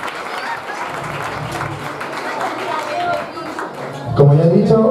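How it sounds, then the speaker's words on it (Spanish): Audience at a synchronized swimming club's tenth-anniversary gala applauds steadily with crowd noise, and a voice speaks over it near the end. "Un fuerte aplauso para todos."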